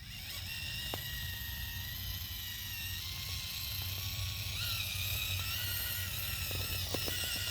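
An Arktos 6x6 RC truck with an all-metal transmission upgrade runs at high throttle, producing a steady, fairly faint high-pitched electric motor whine with gear whir and occasional pitch shifts and small clicks, no talking.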